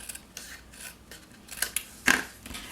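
Scissors snip and rasp through card paper in short, soft cuts close by, ending with one sharper, louder snip; no voices.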